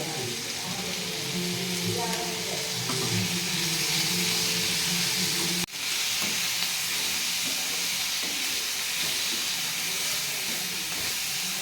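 Tomatoes sautéing in a pan for chicken gravy give a steady, fairly loud sizzling hiss throughout, with a brief dip midway before the frying resumes unchanged.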